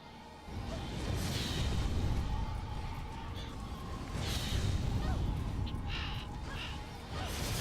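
A crow missile attack in the video game Folklore: repeated harsh cawing over a dense, loud rushing rumble with whooshing sweeps, continuous for several seconds.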